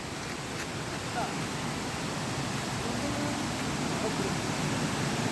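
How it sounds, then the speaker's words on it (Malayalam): Waterfall at Vattavada in Munnar with low summer flow, heard as a constant, even broadband rush of falling water with no breaks, fairly soft and slightly distant. "അടുത്ത ലൊക്കേഷൻ വന്നത് വലിയൊരു വാട്ടർഫാൾസാണ്."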